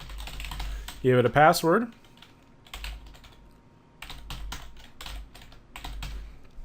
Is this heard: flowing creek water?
no